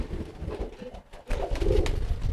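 Soft, low crested pigeon coos sound close by in a short sequence, with a brief quiet gap between calls.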